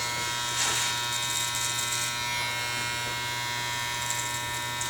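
Electric hair clippers buzz steadily and close up while cutting a flat top haircut, a continuous even hum with slight surges as the blades pass through the hair.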